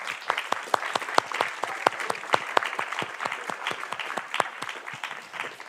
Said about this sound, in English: So I think there's a round of applause for everybody being involved in this week.